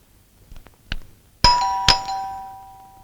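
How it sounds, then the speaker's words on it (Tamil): Indoor doorbell sounds in a domestic comedy scene: a couple of soft knocks or clicks, then two bright chimes that ring out and decay slowly, with no speech. "காலிங் பெல் அடிக்குது"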